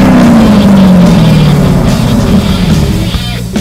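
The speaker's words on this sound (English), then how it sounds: "The Canyon Muffler made my car sound and feel like a brand new car." A car engine with a Canyon Muffler exhaust roars loud and close, its droning pitch sliding slowly downward, then holding as a rough, steady rumble.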